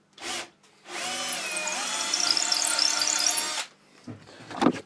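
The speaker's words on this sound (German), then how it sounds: "Setze den schön mittig und bohre jetzt von unten das Ganze durch." A power drill bores up through a wooden board from underneath to make a handle hole for a pull-out French cleat wall. Short bursts at the start and end frame a steady whining run of about two and a half seconds.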